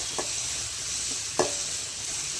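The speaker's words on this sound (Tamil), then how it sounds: "கல்லுப்பு சேர்த்தோன்னா வெங்காயம் வந்து சீக்கிரமாக வணங்கிடும்" Onions sautéing in a pan with rock salt and turmeric: a soft, steady sizzle broken by two brief scraping stirs of a spoon, close by and without talk.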